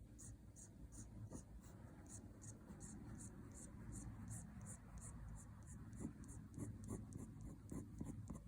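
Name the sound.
quill pen writing on paper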